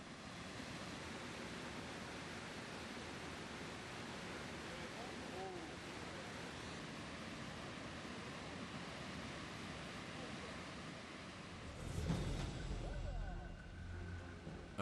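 A waterfall on Alaska's Brooks River roars in a steady, broad rushing wash, with a brief louder burst of splashing near the end.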